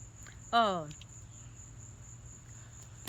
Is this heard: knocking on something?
no